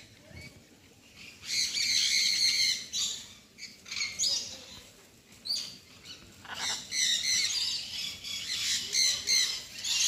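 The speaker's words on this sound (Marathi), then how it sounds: "हा जो इथला पक्षी आहे त्याचं नाव आहे, वाचा, ब्ल्यू अँड गोल्डन मकाऊ" Harsh, raspy squawks from a blue and gold macaw in an aviary at a Konkan fish theme park come in repeated bursts of varying loudness over quiet background.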